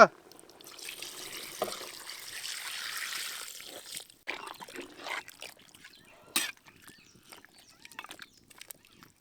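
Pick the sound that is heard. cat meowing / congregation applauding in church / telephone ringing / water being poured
water being poured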